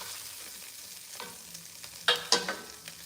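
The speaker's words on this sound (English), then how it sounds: "so I can just saute the vegetables in the fat" Vegetables sauté quietly in rendered meat fat for red beans and rice, a soft steady sizzle broken by a few sharp spatula clicks toward the end.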